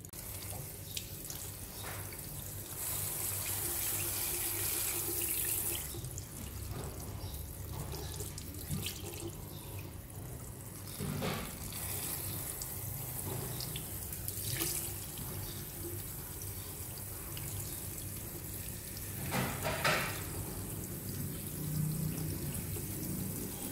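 Tap water runs steadily over a Nissan Juke air filter being washed in a sink, a continuous close splashing rush with brief shifts as the filter moves under the stream, with no voices.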